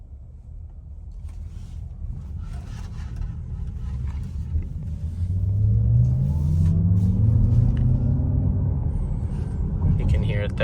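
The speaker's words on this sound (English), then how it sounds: "you will be able to hear the motor sound when I do the acceleration" 2025 Cadillac Optiq electric car accelerating, its motor giving a smooth, rising whine over low road rumble that builds and swells in the second half, heard from inside the cabin.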